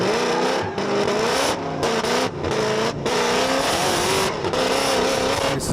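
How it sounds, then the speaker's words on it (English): A race car with a twin-supercharged LS engine roars loudly and continuously during a touring-car race, its pitch rising and falling through gear changes with brief lifts off the throttle, with other cars in the mix. "Listen to that. Twin supercharged LS Raw."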